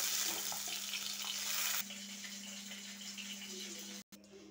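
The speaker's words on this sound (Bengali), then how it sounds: "আমার এখানে সব মাছই ভাজা হয়ে গেছে, এবারে একে একে তুলে নেব।" Bhetki fish pieces frying in hot oil, a steady broadband sizzle close to the pan that drops in level partway through, then continues more quietly after a brief cut.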